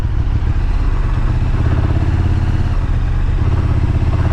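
A KTM Super Duke 1290 R motorcycle with its stock exhaust, its engine giving a loud, close, continuous deep rumble with a steady throb for the whole stretch, and no voices over it.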